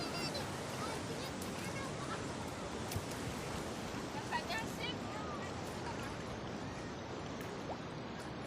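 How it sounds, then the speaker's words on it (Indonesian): Waves breaking on Ngudel beach make a steady, broad roar of surf that holds loud and unbroken throughout, with a faint voice far under the wash. "Datanglah ombak."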